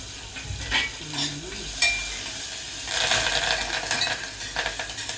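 Onions frying for whole moong khichdi with spices and mustard seeds, sizzling steadily in a pan while a spoon stirs and scrapes in repeated bursts, close and fairly loud, with no voices.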